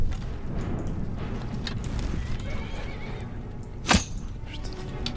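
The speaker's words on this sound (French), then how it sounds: "il y a un cheval qui est en train de poursuivre un loup" A horse in the Skyrim video game whinnies sharply while chasing a wolf, one bright neigh rising above a steady wash of game ambience, hoofbeats and low rumble.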